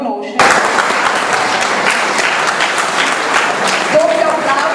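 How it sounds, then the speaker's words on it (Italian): After a short spoken line, applause from the audience at a literary prize ceremony breaks out suddenly and continues as steady, loud clapping to the end, with a voice briefly audible near the close. "Doppio applauso per averci raggiunto la rinuncia, grazie."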